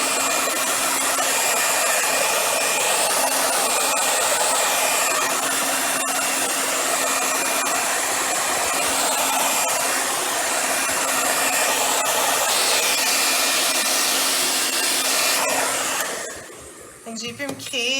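A hair dryer blows steadily and loudly at close range, drying drops of alcohol ink during a nebula-effect painting session, with a constant whooshing roar that cuts out near the end.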